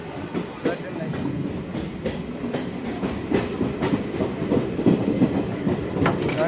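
The 75721 Siliguri–Haldibari DEMU passenger train runs on rails, giving a steady onboard rumble with repeated clickety-clack beats at moderate loudness. Muffled voices sit underneath.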